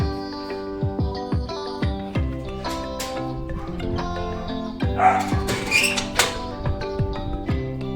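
Two podenco puppy siblings yip and bark in quick, high bursts with whimpers in between, close and fairly loud, the calls overlapping in an excited, uneven rhythm.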